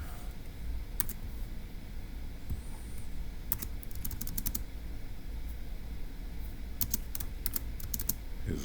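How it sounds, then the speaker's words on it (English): Keys clatter on a computer keyboard while a Turing Machine logic puzzle is being solved, quick bursts of crisp clicks with short pauses over a steady background hum, with no voices. "let me type it up"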